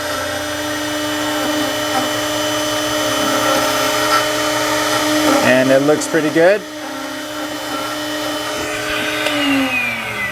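A key cutting machine whirs steadily with a high motor whine, briefly grinding mid-way, while a person speaks over it.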